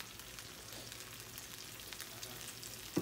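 Crab with aligue crab paste and black pepper frying in a pan gives a faint, even sizzle and hiss throughout, with no talk.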